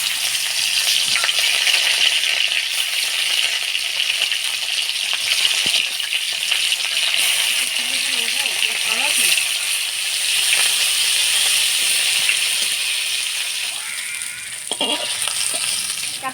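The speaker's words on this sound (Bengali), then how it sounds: "এবার মাছগুলা ভাজে নিব। চাপলা মাছগুলা ভাজে নিব।" Chapila fish frying in oil in a pan give a loud, steady sizzle that runs throughout, with faint clinks and rattles here and there.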